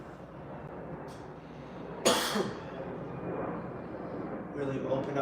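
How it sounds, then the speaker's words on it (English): A person coughs once, sharp and close, during a yoga session, with soft background sound before and after. "If you cough, like I do, that's okay."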